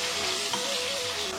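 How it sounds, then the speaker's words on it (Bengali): Diced potato pieces frying in a pan, cooked until half done, give a steady, dense sizzle that holds evenly close up for the whole moment, with no talking. "আলুটা তো ভাজা হচ্ছে"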